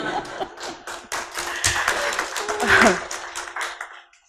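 Scattered clapping from a small crowd, fairly close and uneven, rising then fading over a few seconds with murmuring voices underneath.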